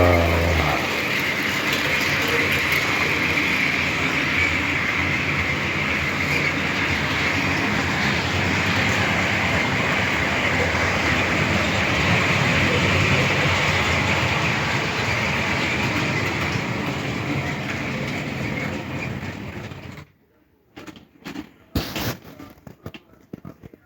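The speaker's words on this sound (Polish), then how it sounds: "To jest fajny składzik, chociaż kartonowy, ale stonka jeździ." Model train with an SM42 Stonka locomotive in PKP Energetyka livery running on a layout, a steady close motor whir and rolling rumble, then cutting out into scattered clicks and handling noises.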